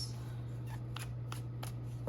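Tarot cards are shuffled by hand in a few quick, soft riffles at a close distance, over a steady low electrical hum.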